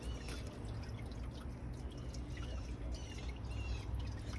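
American Standard Cadet space saver toilet flushing a washcloth, a steady rushing, trickling swirl of water draining through the bowl, close and continuous throughout.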